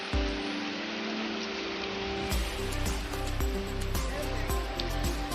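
Stream flowing near a tea garden, a steady rushing wash of water with a low rumbling undertone, with noise that shifts and bumps as if someone is walking close to the bank.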